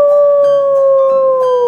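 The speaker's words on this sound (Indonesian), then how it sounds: "ada serigala" A toy animal's electronic wolf howl, one loud, sustained tonal wail with a slowly falling pitch and faint clicks underneath, heard alone and close.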